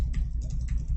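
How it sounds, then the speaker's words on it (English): Fingers typing on a faulty computer keyboard, a quick run of close, light key clicks over a steady low hum, with no voice. "I'm typing. You see, it's not working."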